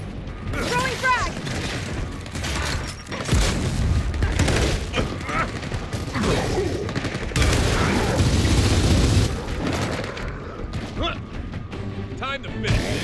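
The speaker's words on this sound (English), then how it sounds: "Throwing frag!" Gears of War 4 combat with a frag grenade thrown amid rattling gunfire, mechanical clanks and a heavy blast, loud and chaotic, with voices shouting over the fight.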